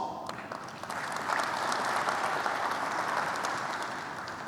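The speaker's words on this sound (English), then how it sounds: "So I suggest we all give ourselves a big round of applause." An audience applauds at an industry conference on 5G, a dense, steady patter of many hands clapping at moderate distance, swelling slightly and then easing off over a few seconds.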